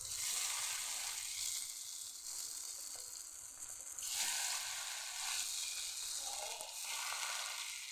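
Kawasa fish frying in a pan, a loud, steady oily sizzle with crackling hiss that swells and dips as the pieces cook, close and continuous.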